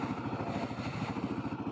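A new Kawasaki KLR650 dual-sport adventure motorcycle engine pulls as the clutch engages, a low, throbbing single-cylinder pulse with steady rapid beats, close and fairly even throughout.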